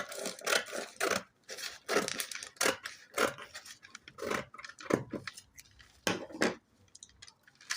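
Scissors snip through fabric while cutting out a sleeve piece, a run of close, crisp, irregular cuts and rustles with short pauses between them.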